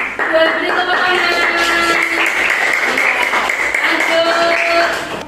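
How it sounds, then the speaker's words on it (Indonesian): Group applause in a classroom, steady clapping from many hands lasting several seconds, with voices and some tonal background mixed underneath. "Beri tepuk tangan."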